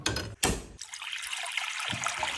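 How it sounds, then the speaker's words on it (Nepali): Water boiling in a pot for making dhido, a steady rushing, bubbling hiss with a couple of sharp knocks near the start. "पानी पनि उम्लिसक्या थियो।"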